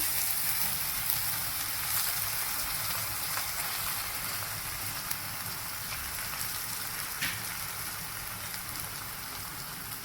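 Soaked puffed rice is added to a hot pan and fries with a soft, even crackling sizzle, close but quiet, holding steady with faint stirring ticks.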